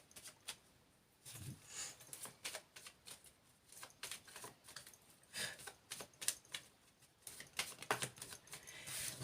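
A deck of tarot cards being shuffled and cut by hand: soft, irregular riffling flutters and taps, close but faint, in bursts with short pauses.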